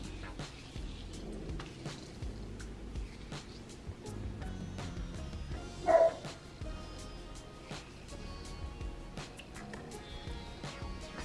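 A dog gives one short bark partway through, somewhat muffled, against a quiet background of light clicks and tapping.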